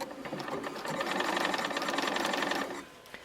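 A sewing machine runs steadily stitching bias facing tape onto fabric, a close, rapid mechanical whirring with fine repetitive clatter for a few seconds before stopping.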